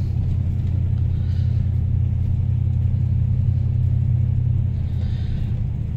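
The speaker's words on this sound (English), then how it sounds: "It's just an awesome vehicle for driving in the snow." A 2001 Chevy Suburban 2500 three-quarter-ton four-wheel drive on snowy neighborhood streets, its engine giving a steady, loud low rumble from inside the cab with no change in pace.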